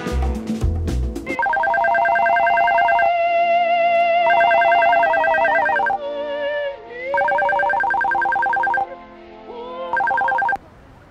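A telephone rings with a loud electronic melodic ringtone, steady repeating tones in several bursts with short gaps, preceded by a brief thump, heard alone with no talking.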